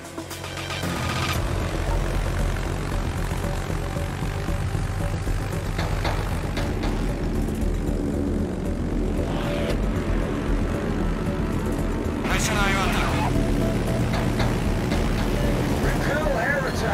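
Fighter aircraft engine in the World of Warships naval combat game, a steady, loud propeller drone running throughout under a dense mix of game sounds and background music.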